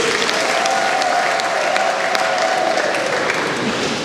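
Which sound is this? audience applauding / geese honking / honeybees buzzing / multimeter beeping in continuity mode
audience applauding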